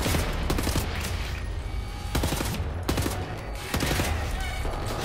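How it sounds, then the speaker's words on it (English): Gunfire in Wolfenstein: The New Order: repeated loud shots and short bursts landing roughly every second across the scene, sharp and close, over a dense battle background. "Who's firing?"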